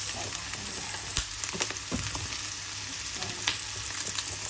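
Carrots being sautéed in a pan for a stir fry with celery and chicken, a continuous sizzle broken by a few sharp stirring scrapes and clicks, no talking.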